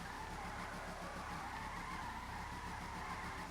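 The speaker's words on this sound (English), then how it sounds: "I keep spinning out like that." A car's tires squeal and skid continuously as it spins out while drifting in GTA 5 Online, a loud sustained screech over steady engine noise with no one speaking.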